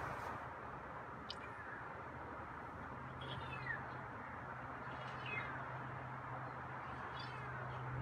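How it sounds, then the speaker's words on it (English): A feral cat meows outdoors, several faint, short mews spread across a steady background hiss with a low hum. "I think your meows are a little bit louder."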